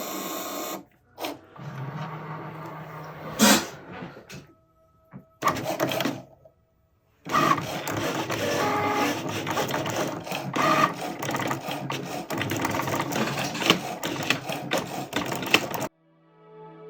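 A Cricut cutting machine works through a design for an Alaskan cruise T-shirt, its carriage whirring and buzzing in loud, steady mechanical bursts with short pauses and sudden stops, close by and with no talking.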